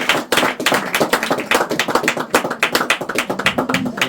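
A church assembly claps in fast, uneven bursts, many hands striking loudly and close, with the rhythm surging and dipping across the few seconds.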